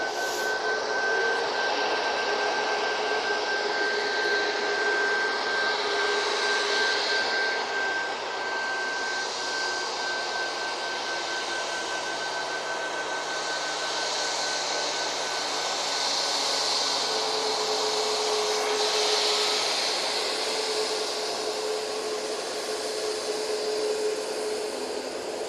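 Ryanair Boeing 737 MAX 8 jet departing Manchester Airport for Tenerife, a steady sustained engine roar with high whine holding at even loudness throughout, no voices.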